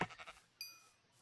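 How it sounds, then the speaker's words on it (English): A sheep in the Minecraft video game gives a single short synthetic bleat, faint and clean after a brief burst of game noise. "I had to kill the sheep because I needed a bed."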